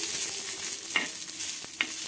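Coriander seeds dry-roasting in a pan, a soft hiss with two or three light scrape-and-rattle stirs, close and fairly quiet, no voices.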